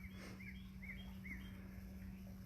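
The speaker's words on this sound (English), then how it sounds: "Got some waterfront property going right now and some birds and some cicadas going." Beside a creek, a few faint, thin bird chirps repeat at short intervals over a quiet, steady low hum and soft background hiss.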